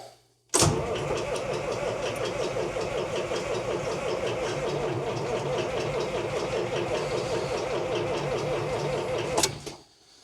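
A John Deere 4430 tractor in cold weather cranks and fires, then runs steadily with a rhythmic, loud diesel rumble for about nine seconds before cutting off abruptly; no voices are heard.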